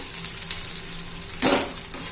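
Green chili and garlic frying in hot oil for a ridge gourd thecha, a steady close sizzle with a brief louder burst of crackling as the pan is stirred.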